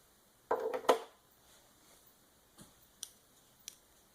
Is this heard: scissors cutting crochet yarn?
yes